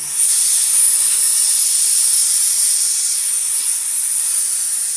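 An espresso machine's steam wand gives a loud, steady, high hiss of escaping steam that holds close and unbroken for about five seconds, with no voices.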